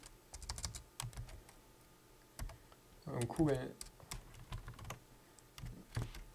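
Typing on a computer keyboard during a Processing.js coding session, with quiet irregular key clicks in short bursts and someone speaking intermittently over them.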